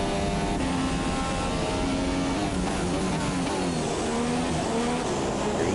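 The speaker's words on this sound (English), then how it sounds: "Tej really revving the engine up" A Formula 2 race car engine at the Malaysian Grand Prix revs at a high pitch, the whine climbing and falling through gear changes. It sounds loud and continuous.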